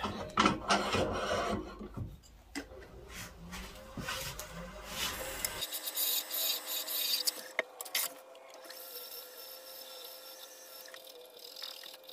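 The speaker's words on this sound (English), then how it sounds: "Fix the bottom and we'll sand." Sanding a maple wood box, steady close rasping and rubbing strokes, busy and coarse at first, then thinner scratchy strokes over quieter background in the second half.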